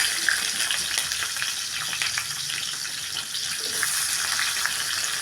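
Onions and spices sautéing in a pan for devil chicken, giving a loud, dense, continuous sizzle and crackle close up, with stirring, no voices.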